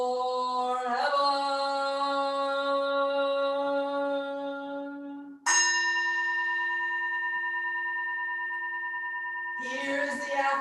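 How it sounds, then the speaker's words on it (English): A bell at a Buddhist Sunday service is struck twice, each strike ringing out clearly and decaying into a long, sustained hum, with the start of a third strike at the very end. "Here is the after sound of the bell."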